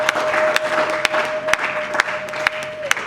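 A church congregation applauding during a religious wedding service, dense sustained clapping with regular beats that suggest rhythmic clapping, a held keyboard-like tone underneath.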